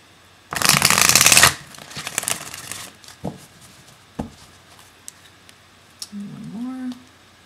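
Oracle cards riffle-shuffled in one loud, dense burst lasting about a second, followed by softer scattered card handling and taps, with a brief voiced sound near the end.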